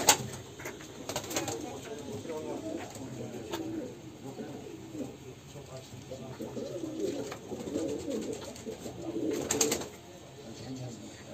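Pigeons coo in a backyard coop where a pair has been set together, a steady murmur of soft, rolling calls with a few louder bursts, mixed with faint background voices.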